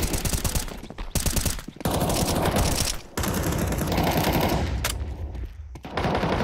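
Rapid automatic gunfire and single shots in a Counter-Strike professional match on the Ancient map, loud bursts separated by brief pauses.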